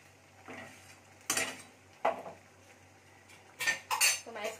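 A metal lid clatters onto a cooking pot of egg dal tadka, with a few sharp clinks and knocks of metal on metal spaced through a quiet kitchen, loudest in a cluster near the end.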